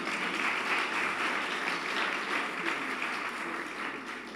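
Audience applause for a swim team fills the clip as a steady wash of many hands clapping, moderately loud and continuous throughout.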